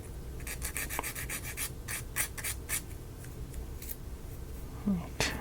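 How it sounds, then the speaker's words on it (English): Steady scratchy rubbing of sandpaper on a small wooden piece of a mini dollhouse, repeated quick strokes, close and fairly quiet with a faint thump near the end. "got a little more sanding on that too, I think."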